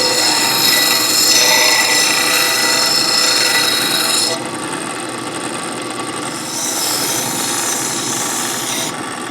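A repowered Craftsman belt sander driven by a fan motor runs with a loud, rasping high hiss of the belt rubbing, easing off and surging again as material is pressed against it, with no talking.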